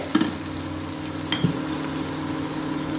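Food frying in a pan while being stirred to make a restaurant-style dish from leftover rice, with a steady sizzle throughout and two brief scraping stir strokes near the start and middle.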